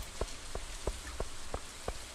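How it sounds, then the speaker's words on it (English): Rain falling in Stardew Valley, a steady wash of rainfall with a regular ticking patter repeating about three times per second, moderate and even throughout. "It's raining."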